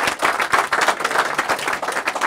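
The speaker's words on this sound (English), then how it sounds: "Let's give these guys a round of applause." Audience applause after a panel talk on education reform in North Carolina: steady, dense clapping from a roomful of people, loud and continuous throughout with no voices over it.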